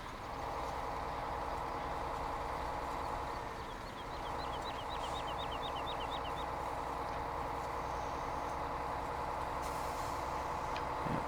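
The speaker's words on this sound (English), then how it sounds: "Get the old Kenworth fired up." A Kenworth semi truck engine idles steadily, a continuous low rumble with a faint whine, heard close and alone through the whole stretch.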